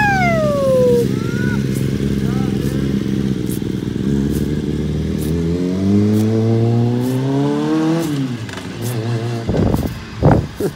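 Motorbikes race past at a distance, their engines revving and climbing in pitch before fading away, followed by brief clattering bursts, with occasional faint voices nearby.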